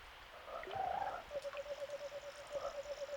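Frog enemies in the video game Secret of Evermore, a burst of croaking followed by a rapid rhythmic series of chirpy croaks over soft game background, no speech.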